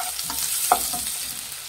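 Chopped onions and green chillies sizzle in a pan for potato fry, a steady hiss with a few soft stirring scrapes and clinks.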